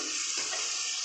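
Dry fish curry sizzling in hot oil with chilli, a steady close frying hiss throughout with a brief clink at the end.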